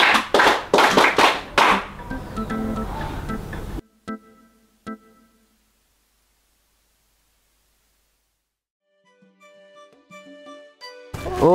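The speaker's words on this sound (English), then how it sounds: "So, as students, I'm going to give you one big Bougainville clap for Dr. Kelly for this time." A group of students gives a few quick, loud claps together at a school event, followed by a couple of isolated sharp taps and then near silence with faint background sounds.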